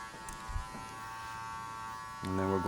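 Electric hair clippers blend a fade and taper in a barbershop, a faint steady buzz that swells louder and closer near the end, with speech and background noise underneath.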